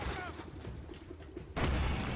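Explosion in the Mad Max video game: loud, dense rattling bursts of gunfire-like blasts that jump to a heavier, booming roar near the end.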